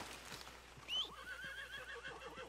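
A horse in the Red Dead Redemption 2 video game gives one short, high whinny, with soft clip-clop hoofbeats going on quietly underneath.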